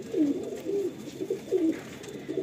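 Madrasi pigeons in a loft coo repeatedly in soft, rolling phrases, close by and continuous, with a faint background hum.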